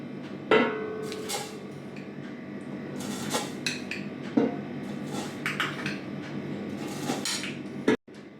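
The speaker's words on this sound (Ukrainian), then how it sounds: "Мені потрібно сюди додати цукру." Sugar spooned into a pot of birch sap, a run of metallic spoon clinks and scrapes against the pot, moderately near, with a louder knock toward the end and no talking.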